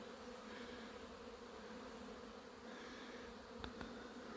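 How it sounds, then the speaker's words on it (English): A dense, steady hum of many buzzing bees leaving a pine tree, faint and continuous, with a couple of louder insects passing close near the end. "there's a lot of bees coming out of there"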